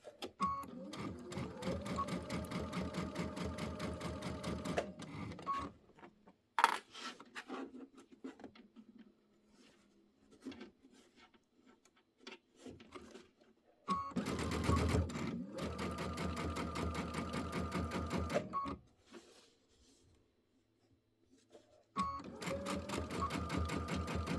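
A sewing machine stitches a table runner, its steady rapid whir running in long bursts with quiet gaps where the fabric is guided and adjusted.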